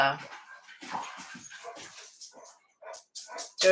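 Pet dog indoors at home, barking and whimpering in short yips and whines mixed under steady close conversational talk, with a louder burst near the end.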